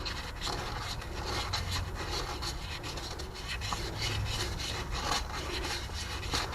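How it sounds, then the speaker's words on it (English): A rusted distributor rotor button from a Dodge Dakota is sanded by hand, a steady, continuous gritty rasping scrape, close and unbroken throughout. "I had to sand it."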